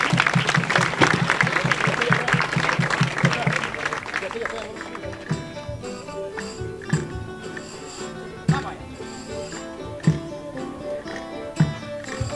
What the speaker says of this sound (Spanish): Un fuerte aplauso para este cuerpo de baile.